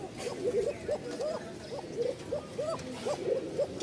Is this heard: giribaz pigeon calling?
yes